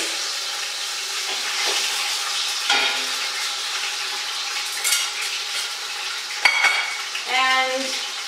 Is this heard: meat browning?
yes